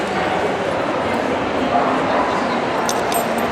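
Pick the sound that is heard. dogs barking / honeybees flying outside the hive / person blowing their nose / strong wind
dogs barking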